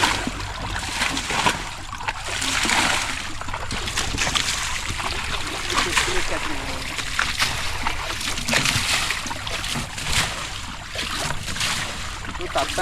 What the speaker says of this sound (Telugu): నువ్వు నీళ్ళు కొట్టుకో